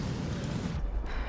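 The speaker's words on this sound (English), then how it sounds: "An explosion?" A deep explosion rumbles inside a mine in the video game Horizon Forbidden West, a brief, heavy roar with a low booming tail.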